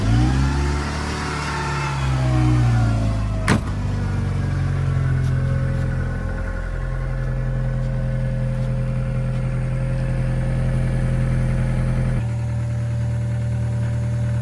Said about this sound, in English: Now that the exhaust is quieter, you can hear the hydraulic lash adjusters and a little bit of rattle